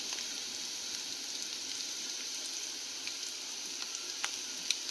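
Onions sautéing in a pan for yellow pumpkin kootu give a steady, even sizzle throughout, with occasional small pops and crackles over the constant frying hiss.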